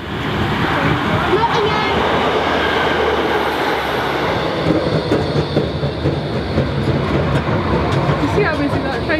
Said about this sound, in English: You see how busy that train was?